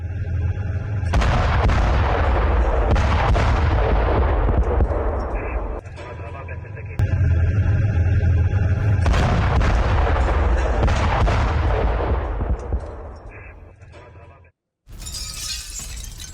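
Heavy blasts and crashing debris as the Israeli army strikes and demolishes a building in southern Lebanon, loud rumbling bursts that roll on for several seconds each, then fade before a brief cut.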